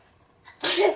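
A single close, sharp sneeze with a brief inhale before the loud burst, nothing else around it.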